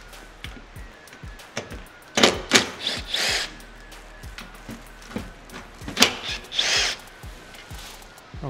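A tool spins out the fender bolts on a Subaru, with short whirring bursts and scattered metallic clicks and knocks at moderate, close-up volume over a quiet background.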